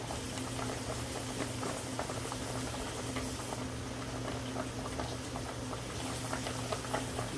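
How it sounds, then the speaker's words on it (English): Slightly darkened white button mushrooms being rinsed under running water: a continuous splashing patter with small droplet ticks, close and steady throughout, no talk. "So we're gonna rinse them off."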